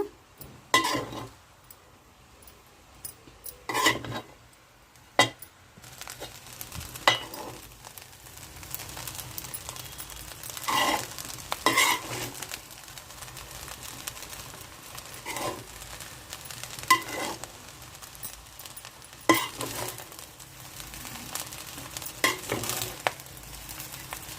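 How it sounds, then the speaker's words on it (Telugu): A spatula stirs and tosses cauliflower fried rice in a hot pan: soft scraping sweeps and intermittent clatters over a continuous sizzle, close and fairly loud, with no one talking. "కాలీఫ్లవర్ బాగా కలిపేసుకుందాము"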